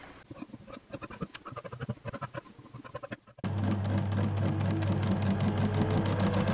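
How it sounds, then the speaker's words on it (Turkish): Fabric cut for a homemade skirt, with rapid scratchy snipping and rustling for a few seconds, then a continuous, loud, steady mechanical hum. "Şimdi o zaman kumaş katında bir adet keselim."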